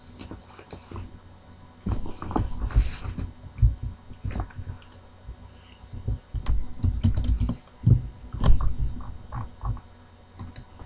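Code being typed on a computer keyboard while writing a CRUD program for adding and correcting data: bursts of close, rapid key clicks with short pauses between runs, no talking.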